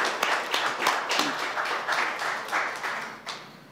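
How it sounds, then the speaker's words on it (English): An audience applauds a mine rescue team at a governor's honoring event, with steady overlapping claps that build and fade over several seconds, fairly close and moderately loud. "Give them a big round of applause."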